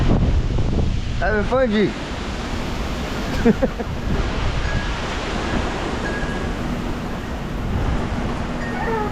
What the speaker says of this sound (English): Starting to get some pretty heavy gusts now.